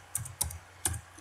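A few quick keystrokes on a computer keyboard, three soft clicks spaced unevenly in a quiet room, close and fairly faint.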